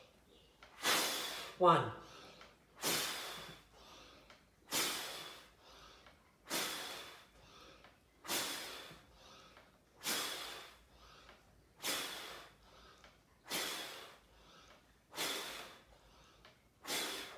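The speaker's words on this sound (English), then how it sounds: "10 push-ups. With brass breaths, here we go." Forceful rhythmic breaths of a brass player doing ten push-ups, strong hissing exhalations repeating about every second and a half, close and loud, with a brief spoken count near the start.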